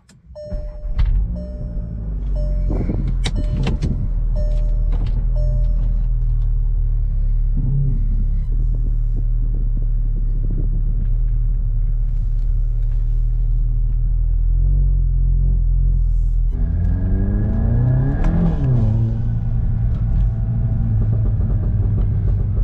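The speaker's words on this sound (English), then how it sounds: "We're driving around the block." A Volkswagen Mk7 GTI engine drones with a steady low rumble from inside the cabin, the pitch rising and falling as the car accelerates and shifts gears.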